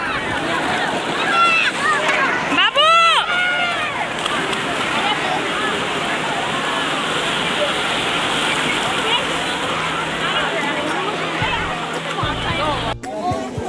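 Crowd of people bathing and splashing in the sea at Digha beach, continuous surf and water splashes with shrieks and excited voices mixed in, lively and close, with people talking and shouting throughout.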